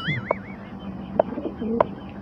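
Soft cooing from young racing pigeons sounds nearby, a few brief calls spread over a couple of seconds with a faint whistle-like tone in the background.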